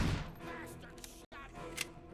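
Gunfire in the RoboCop: Rogue City video game: a burst of rapid shots at the start, then scattered shots and impacts over game effects, with a voice talking briefly, and a sudden silent break in the middle.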